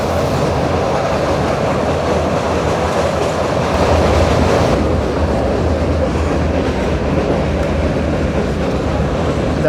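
A meter gauge train running through Gir Forest, a loud continuous rumble with clattering wheels on the rails, heard close and steady from on board for the whole stretch.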